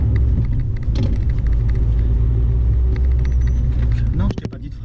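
A car accelerates in third gear during a driving lesson, a loud steady engine rumble and road noise with an instructor speaking over it throughout.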